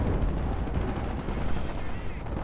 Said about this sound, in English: What if I just destroy everything with my artillery strike?